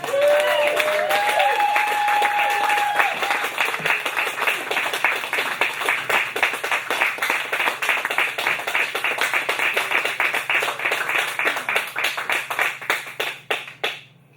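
A poetry celebration crowd gives a big, sustained round of applause, dense clapping filling the room for over ten seconds before tapering off near the end, with a few cheers early on.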